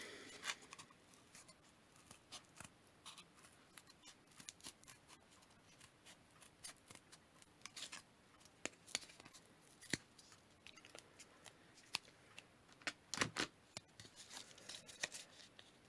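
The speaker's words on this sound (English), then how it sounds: "Then start cutting around the centre of our cardboard donuts." Scissors snipping through cardboard to make a pom-pom maker, faint, close crisp cuts and scrapes scattered irregularly throughout, with no speech.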